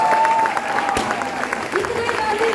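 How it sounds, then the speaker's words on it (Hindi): A crowd at a company event claps for the CMD and MD, a dense, close round of applause with cheering voices and chatter mixed through it. "खड़े होकर ताली होनी चाहिए भाई, बैठ के ताली नहीं होनी चाहिए।"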